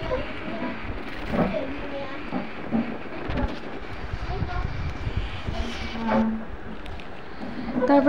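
A train at a railway station in the evening rumbles and clatters at a steady level, with scattered clanks and a brief squeal, while people talk nearby throughout.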